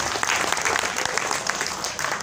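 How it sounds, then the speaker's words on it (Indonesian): Crowd applause at an Iftar gathering, a dense, steady wash of clapping from many hands sustained throughout at moderate level. "Tepuk tangan."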